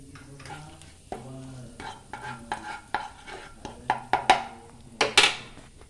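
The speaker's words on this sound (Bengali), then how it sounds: "তেলের মধ্যে ফোড়ন দিয়ে দিলাম।" Whole cumin, cardamom, cinnamon and cloves sizzle in hot oil for a Bengali fish-head and cabbage dish, with a steady frying hiss under repeated metal stirring and pan clinks that grow louder toward the end.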